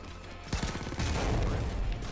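Payday 2 gunfire: a sudden burst of rapid shots after a quiet start, then sustained rattling fire and booms lasting nearly two seconds, loud and dense.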